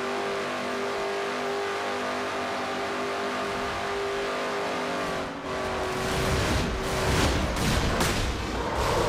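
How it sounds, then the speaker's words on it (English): A stock race car at Dover Speedway idles unevenly, then its engine coughs and sputters in rough bursts as the driver tries to restart it, the noise swelling without catching into a clean run. "And you heard Cole trying to get his car to start back up"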